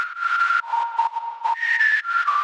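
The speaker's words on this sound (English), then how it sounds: "And the first one is a little whistle." A synthesized whistle built from white noise through a bandpass filter, a bright breathy tone jumping between pitches in short choppy bursts, heard alone.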